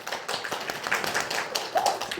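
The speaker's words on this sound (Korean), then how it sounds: "모두가 다 박수 한번 쳐보세요" Congregation clapping together during a Sunday church service in a Korean church, a brief burst of many hands at moderate volume with a few faint voices mixed in.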